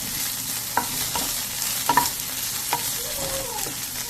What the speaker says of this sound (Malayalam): ഞാൻ അതിലേക്ക് മുളക്, വെളുത്തുള്ളി, പിന്നെ ഇഞ്ചി, കറിവേപ്പില എല്ലാം ഇട്ടു കേട്ടോ. എന്നിട്ട് ചുമ്മാ ഒന്നിങ്ങനെ വഴറ്റിയിടുക.